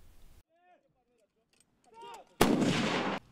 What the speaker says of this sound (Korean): 예비군이 155mm 견인포에 넣은 포탄이 발사 신호와 함께 가상의 적들을 향해 힘차게 날아갑니다.